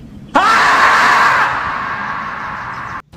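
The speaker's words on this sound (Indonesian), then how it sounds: "Jelas si Macy pun berteriak." A girl screams in Jurassic World: Fallen Kingdom, a sudden loud, sustained shriek that starts sharply, holds for almost three seconds, then cuts off abruptly.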